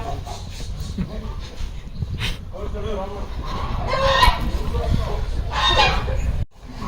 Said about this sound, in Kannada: ಏಯ್ ಈ ಕೋಳಿಗಳನ್ನೆಲ್ಲ ಓಡಿಸ ಆ ಕಡೆಕ